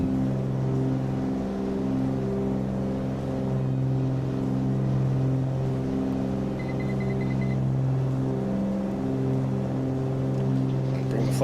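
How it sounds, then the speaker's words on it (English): Twin aircraft engines drone in Microsoft Flight Simulator over Louisiana, a steady, even hum with a smooth tonal purr that holds unchanged throughout, with a faint short beeping partway through. "Just listen to the purr of those twin engines."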